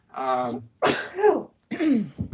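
Three close, loud sneezes follow one another in quick succession, each a sharp, breathy burst.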